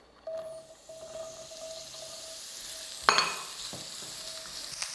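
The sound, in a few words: mushrooms frying in a pan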